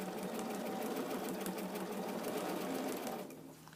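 A home sewing machine stitches steadily for about three seconds in a dense, rapid mechanical whir, then slows and stops near the end. No one talks.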